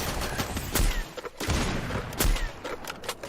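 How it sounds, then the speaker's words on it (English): Dense, continuous gunfire with booming shots and bursts from the game Free Fire during an esports match, synthetic and game-like, mixed into a busy, noisy background. "quick respite before the gunfire continues."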